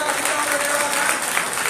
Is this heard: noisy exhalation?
no